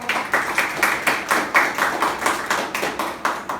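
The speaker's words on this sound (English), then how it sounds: "So can we have a round of applause for Toastmaster who was doing a debutante role as a grammarian." Rhythmic, unison clapping from a small audience at a Toastmasters meeting, a regular beat of about three claps per second, close and fairly loud, with no talk over it.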